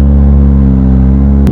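Kawasaki ZX25R race bike engine running close up at a garage, a steady loud rumble with strong harmonic drone that holds at high idle without pause for the whole stretch.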